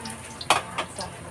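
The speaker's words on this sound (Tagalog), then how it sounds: "So, igisahin natin." Garlic and onion sautéing in hot oil for a chicken and pork apritada, with a soft steady sizzle broken by a couple of brief stirring scrapes, close and fairly quiet.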